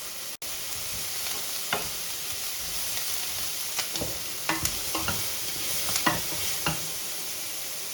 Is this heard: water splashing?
no